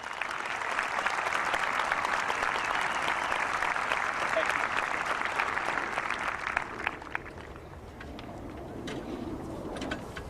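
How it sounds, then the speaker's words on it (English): Applause for athletes at a school graduation ceremony, a broad steady clapping from a crowd for about seven seconds, then thinning out into scattered claps and low murmuring. "Could we have a round of applause for all of our athletes?"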